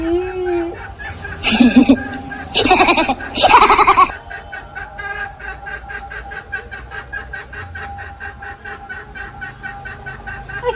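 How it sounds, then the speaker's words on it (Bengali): A hen clucks close by in a few loud, harsh bursts. A quieter, steady patter of farmyard sounds follows. "কি রে মুরগি কক করছে কক করছে"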